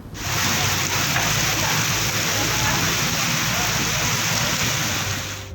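Steady heavy rain falls in Sanghar during the winter election season, a dense, even hiss that holds at constant loudness without a break.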